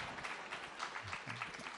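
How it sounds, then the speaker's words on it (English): Scattered audience applause rises in a crowd at a Hall of Fame awards presentation, continuous and moderately loud for under two seconds, with a murmur of voices mixed in. "keep applauding for that"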